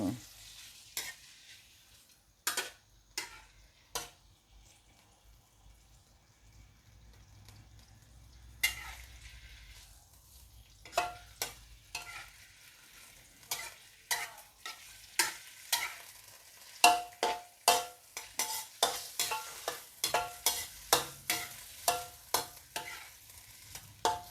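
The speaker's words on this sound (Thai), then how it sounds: "กุ้ง เอาลงไป ผัดหน่อยนะคะ เอาไปลวนเอง ลวนให้กุ้งเนี่ยสุกสักหน่อยหนึ่ง" Shrimp stir-fried in a pan for mixed glass noodles, a quiet sizzle under a string of sharp spatula scrapes and clacks that begin sparse and grow rapid and rhythmic toward the end.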